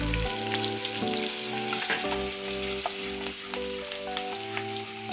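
Chopped garlic and chilies fry in hot oil for street-style Schezwan fried rice, giving a loud, continuous, crackling sizzle with occasional stirring, while music plays underneath.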